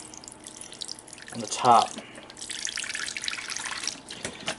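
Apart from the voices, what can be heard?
water poured into a tarantula's water dish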